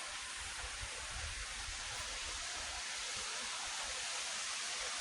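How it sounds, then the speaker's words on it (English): A waterfall at Walter Sisulu Botanical Gardens pours in a steady, even hiss of falling water, constant and fairly soft from a distance, with no voices. "Beautiful waterfall."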